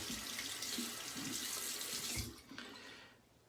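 A cold-water tap runs into a sink to wet a straight razor blade, a steady close hiss of flowing water that cuts off near the end, leaving a brief drip and quiet.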